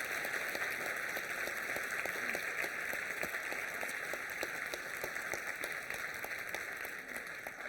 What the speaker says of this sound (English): that was such a rousing applause